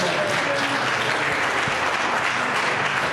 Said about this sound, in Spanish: Den la aplauso al Eterno.